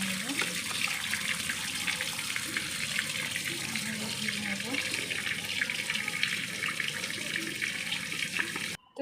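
Water runs steadily from a tap over a sieve as something is washed in it, kitchen prep for kasundi mustard sauce. The rush of water is continuous and fairly close, with faint handling noises and a brief stop at the end.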